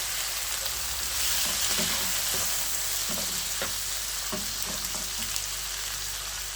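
Green tomatoes frying in a pan, a loud, dense sizzle running throughout, with scattered light taps and stirring clicks close by.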